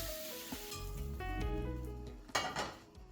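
Pepper-seasoned beef is scooped from a frying pan onto a plate: close metallic clinks and scrapes of utensil against pan over a light sizzle, with no talk.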